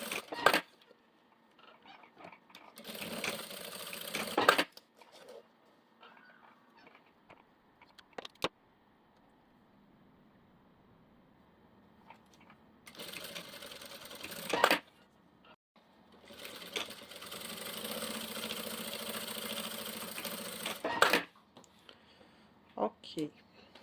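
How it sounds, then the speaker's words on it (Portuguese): A sewing machine stitches fabric lining at stitch length 3.5, backstitching at the start and end, in three bursts of rapid whirring with quiet gaps between, where someone speaks Portuguese. "Aqui eu vou costurar totalmente. Vamos começar aqui pelo forro."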